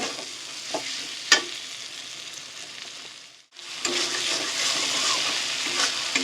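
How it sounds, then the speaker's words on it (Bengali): Dhaba-style chicken tadka sautéing with a little sugar in a pan, a busy sizzle with scraping stirs and a couple of sharp knocks, briefly cutting out midway before the frying resumes louder. "চিনি দিয়ে দেবো একটু, দিয়ে খুব ভালো করে কষিয়ে নেব"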